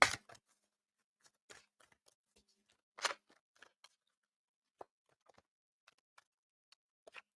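Oracle cards shuffled by hand in a quiet room: a soft riffling burst at the start and another near the middle, with scattered faint ticks and taps of cards between.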